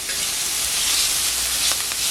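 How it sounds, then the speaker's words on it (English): Loud, continuous sizzling from a pan as ingredients sauté for a curry crab dish, a dense, even hiss with a few faint crackles and no talking. "And allow it to saute for about 1 minute."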